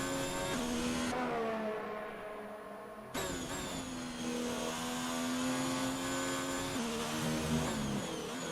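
A Ferrari Formula 1 car engine on a lap of a racing video game, sustained high-pitched whine that drops and climbs through gear changes, steady and prominent, with no voices.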